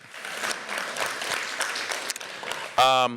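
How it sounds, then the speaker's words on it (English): Audience applause at an arts and culture summit keynote in the Bay Area, a brief swell of clapping across the hall that thins out before a voice cuts in at the very end. "Applaud that."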